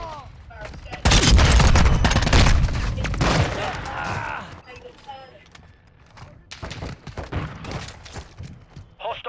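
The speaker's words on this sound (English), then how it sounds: "Hostile mortar strike in the area." Video game firefight with a mortar strike, loud bursts of gunfire and heavy booms filling the opening seconds, then fading to scattered shots and softer impacts while voices talk over the action.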